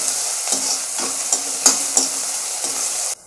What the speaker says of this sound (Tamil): நம்ம பூண்டுட்டு போட்டு நல்லா வதக்கிடலாங்க